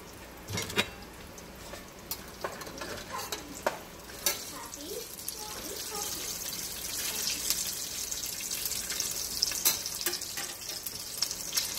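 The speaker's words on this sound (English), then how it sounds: "Let's hurry up and get these in here so I can get done with this frying." Steady crackling sizzle of Spanish meat pies frying in hot oil, with occasional sharp pops and clatters over a continuous hiss.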